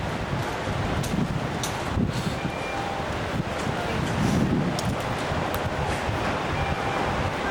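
Strong, steady wind buffets the microphone outdoors on an Alaska cruise shore excursion, a broad, continuous roar with gusty swells and no clear voices over it.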